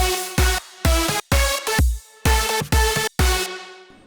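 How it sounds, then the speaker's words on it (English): A punchy future bounce dance drop without chords: heavy kick hits and bouncy plucked synth notes in a choppy rhythm, with brief gaps between stabs. "with the chords turned off, this is what our drop sounds like"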